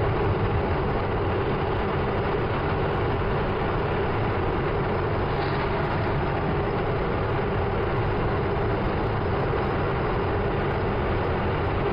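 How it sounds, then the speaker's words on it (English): A Case IH 620 QuadTrac tractor drives forward at steady speed, its deep engine rumble and drivetrain noise filling the cab continuously and loudly, with no talking. "I just throttled it forward and put it in a gear that would get us to that speed"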